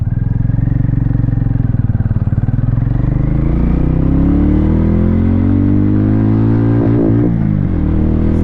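A 2024 Hero Mavrick 440 cruiser motorcycle pulls away and accelerates through its gears, the loud engine note climbing steadily in pitch with a brief dip at each shift, close and continuous with no talking.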